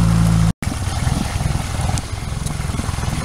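A Yamaha F60 outboard boat motor runs steadily at idle with a little throttle, a loud, close, continuous low rumble and chug, briefly cut by a short dropout near the start.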